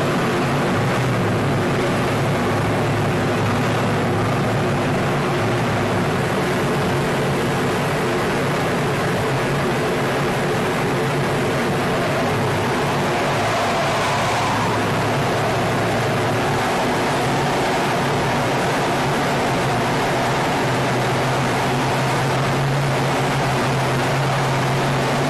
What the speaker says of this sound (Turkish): Gösteri sırasında uçaklar saatte 350 ila 1015 km hızla ilerliyor.